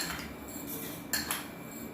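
Quiet scraping of a spoon scooping sugar, then two light, bright clinks against a glass bowl in quick succession, with near silence around them.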